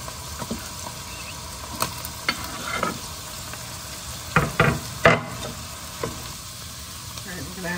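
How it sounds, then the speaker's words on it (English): Onions sizzle in a pan with salt for a zucchini lasagna sauce, a crackling fry punctuated by stirring scrapes and sharp utensil knocks. The sound is close and fairly loud, with no talking over it. "And I'm gonna go ahead and add my onions."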